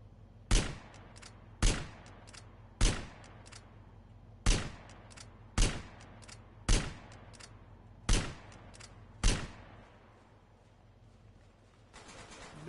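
Sniper rifle fire in the video game GTA San Andreas Definitive Edition: eight sharp, loud single shots at an even pace about a second apart, each with a short decaying tail, then a stretch of low ambient rumble.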